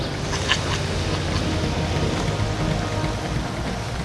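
Heavy rain pours steadily in a rainforest, a dense continuous hiss of drops hitting leaves and ground, close and enveloping, with no voices.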